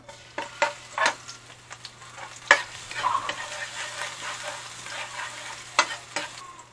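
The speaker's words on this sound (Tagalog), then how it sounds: "Bawang at saka sibuyas. Sautay lang, sautay." Garlic and onion sizzle while being sautéed in a pan, a soft continuous frying hiss broken by sharp scraping stirs and utensil clinks against the pan, close and without talking.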